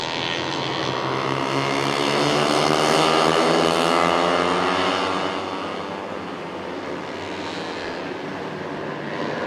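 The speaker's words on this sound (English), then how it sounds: "That's a good ride from Troy Alberto to keep those other 3 bikes behind him." Racing motorcycles at a track, a pack of four bikes roaring past together, a loud, continuous engine drone that swells and then eases slightly as they go by, with no voices over it.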